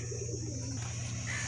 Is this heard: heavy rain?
no